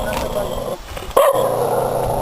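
A dog barks once sharply and close by, with people talking before and after.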